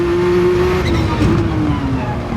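A Lamborghini Countach QVX race car on a circuit, its engine note sliding down as it drops to second gear for a slow corner, loud and close with a steady falling tone.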